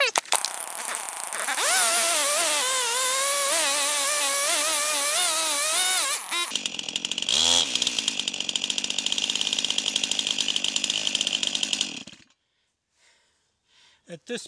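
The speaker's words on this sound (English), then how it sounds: "let's do a demonstration of getting a saw stuck in a log" Chainsaw cutting into a log, loud close engine whine that bogs as the kerf pinches the bar, then idling roughly until it cuts out, leaving near silence.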